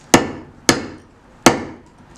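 A hammer strikes a steel chisel into stone during sculpture carving, three sharp, close, evenly spaced cracks, each with a short ringing decay.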